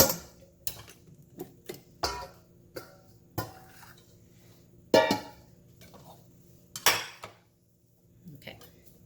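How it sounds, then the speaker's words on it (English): A kitchen knife halving vegetables for a blanched vegetable salad: a series of sharp, separate chops on a cutting board, about one every second or so, close and distinct, separated by quiet gaps. "I'm gonna cut the vegetables in half."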